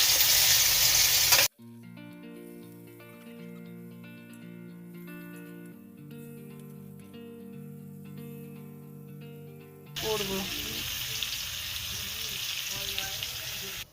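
Hilsa fish sizzling loudly in a hot pan, with a dense hiss at the start that gives way to a melodic musical interlude before the frying noise returns strongly near the end.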